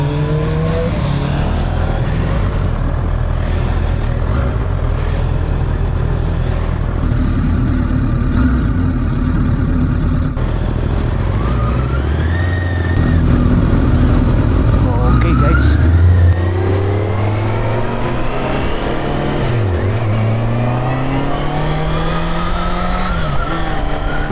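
A Honda CBR650R motorcycle engine on a curving, twisty road in Europe revs steadily and rises and falls in pitch as the rider works through the bends. The engine drone is loud and continuous, with voices chatting over it.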